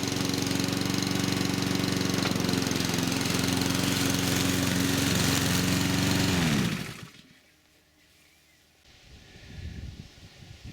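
A repaired Mountfield SP53H self-drive petrol lawnmower runs loud and close with a steady engine drone, then abruptly cuts out and winds down, leaving faint handling noises.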